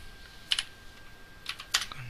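Code being typed on a computer keyboard while building a responsive CSS web page: a few sharp, close key clicks spaced apart, with one quick double tap near the end.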